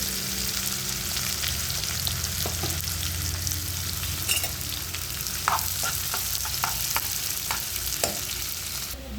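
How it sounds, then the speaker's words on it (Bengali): Onions sizzling in hot oil for a brinjal mash recipe, a dense, continuous crackle close by with scattered sharper pops and light stirring, no voices. "তেলটা গরম হয়ে গেছে, দেবো পেঁয়াজ। পেঁয়াজগুলো একটু লাল লাল হবে।"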